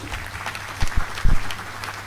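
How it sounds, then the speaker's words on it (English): Brief audience applause at a ceremony unveiling health insurance operational guidelines, with a few louder bursts of clapping rising over a low, steady background hum. "please give the DGNHI a round of applause"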